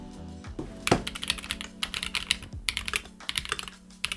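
Typing on an Epomaker EK68 mechanical keyboard produces a loud, clicky run of rapid keystrokes with a few heavier thocks, close up and with no speech.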